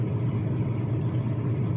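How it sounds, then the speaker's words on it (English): A truck engine idles on a cold Minnesota day, a steady low rumble close by with no break in the running. "Truck doesn't want to start in the cold."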